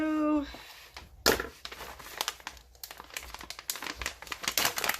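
Trauma shears cutting open a plastic packaging bag, giving close, crinkly rustling and crumpling with sharp snips and rattles, steady for several seconds.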